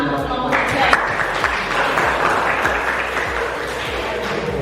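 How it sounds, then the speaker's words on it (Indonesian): Applause for a student group after their presentation in a classroom, steady dense clapping from a small group, close and fairly loud over low background noise. "Kalau kita beri tepuk tangan untuk kelompok 3"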